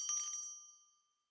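A little brass bell gives a short bright jingle up close, then its clear tone hangs and fades away to silence within about a second.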